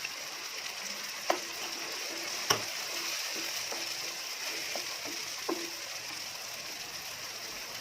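Garlic-ginger paste and masala frying in a pan for masala chicken: a soft, steady sizzle with a few faint clicks and taps from the pan.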